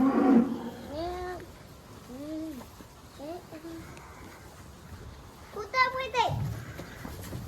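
Cattle low and moo repeatedly inside a barn, several drawn-out calls at moderate distance, with a louder call near the end over background noise.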